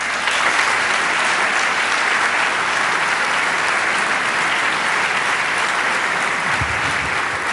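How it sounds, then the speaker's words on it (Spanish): A university lecture audience applauds a presidential speaker with loud, dense, sustained clapping that fills the hall evenly from start to finish, with no voices rising above it. "No me detuve para que me aplaudan"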